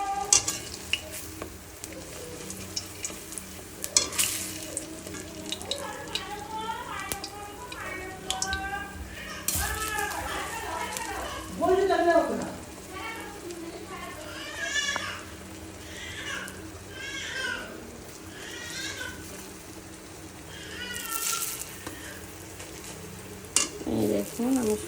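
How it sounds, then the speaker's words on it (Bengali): Brinjal (eggplant) slices fry in hot oil in a pan, a soft steady sizzle with occasional stirring clinks, while someone talks over it throughout. "বেগুনিটা খুব সুন্দরভাবে ভেজে নেব, হালকা লাল লাল করে ভেজে নেব"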